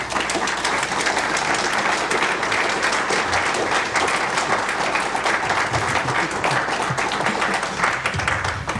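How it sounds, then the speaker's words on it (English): Steady, dense audience applause fills a lecture hall as a speaker on crop circles and sacred sites is welcomed to the stage, holding loud and even for the whole span with no break. "Give him a warm applause on his entry here."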